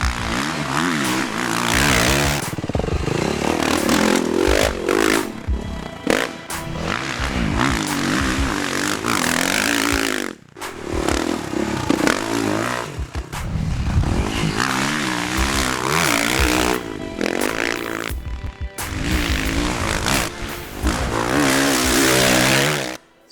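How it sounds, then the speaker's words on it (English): A 2012 Suzuki RM-Z450 motocross bike is ridden hard at Woodhill. The engine sound is loud and close, rising and falling as the rider accelerates and shifts, with brief drops between bursts of throttle. "the bike of choice today is a RM-Z450 and a 2012 model"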